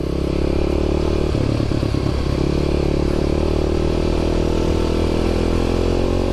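Motorcycle engine idling steadily and loudly up close after being shifted into neutral, with a brief clattering rattle early on and a constant mechanical drone throughout.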